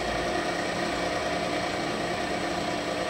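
A vintage Rockwell Delta drill press, converted from single-phase to three-phase power, runs at speed with a steady, smooth motor hum and faint whine, loud and continuous with no talking.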